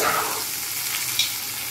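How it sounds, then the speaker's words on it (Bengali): Spice paste for a fish-roe and potato curry fries in a pan with a soft, steady sizzle, close and alone. "মশলাটা কষুক"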